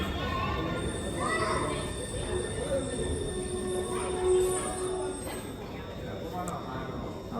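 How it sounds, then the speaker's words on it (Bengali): A metro train pulls into a station, its wheels squealing in a thin high tone over a steady rumble of platform noise and traffic, with people talking nearby. "ট্রেন চলে আসছে।"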